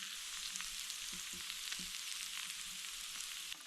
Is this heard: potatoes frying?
yes